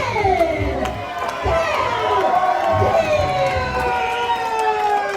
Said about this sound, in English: they are getting louder and louder for the Fanny Pack Kid